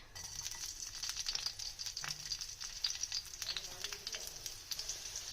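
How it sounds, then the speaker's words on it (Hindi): Chopped green chillies frying in oil in a pan, a light, crackling sizzle with scattered pops and small rattles, moderately quiet and close, ending in a sharp clink. "उसमें हम पहले ऑयल डालेंगे। ऑयल डालने के बाद हमें इसमें पहले हरी मिर्चें डालेंगे, चॉप की हुई।"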